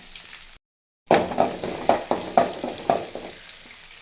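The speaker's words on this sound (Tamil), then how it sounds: "கடுகு சீரகம் கடலைப்பருப்பு போட்டாச்சு இப்போ வெங்காயம் சிறிதளவு சேர்த்திக்கிறேன்" Onion tossed into hot oil with mustard seeds, cumin and chana dal, a sudden loud burst of sizzling after a brief silence, then rhythmic scraping stirs every half second over steady frying.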